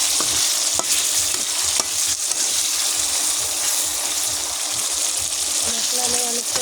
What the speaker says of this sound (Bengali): মশলা কষিয়ে নেব।